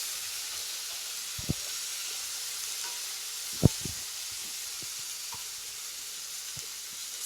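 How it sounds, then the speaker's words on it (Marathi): Chapati bhaji stirred in a pan over a high gas flame gives a steady loud sizzle, broken by a few soft scrapes and knocks from the spoon against the pan. "ते कालवताना गॅस हाय फ्लेमवरच ठेवायचा आहे"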